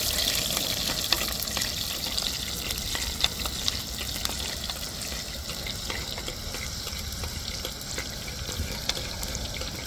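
Small onions (shallots) sizzle and crackle steadily in hot oil on a gas stove, a constant close frying hiss with scattered pops, while cooking a Tamil kuzhambu curry.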